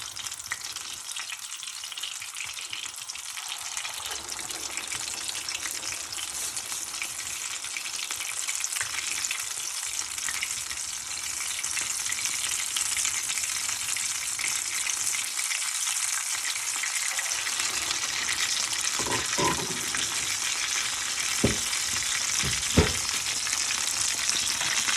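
Potato cutlets frying in oil in a pan, a continuous close sizzle and crackle that swells slightly over time, with a few brief clinks and scrapes late on and no talking.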